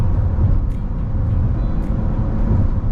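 Volvo SUV with the mild hybrid B6 engine, XC60 or XC90, accelerating on a city expressway at just under half throttle; a steady low cabin drone of engine and road noise with no talk over it.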